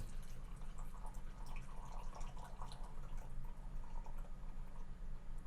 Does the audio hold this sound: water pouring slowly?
yes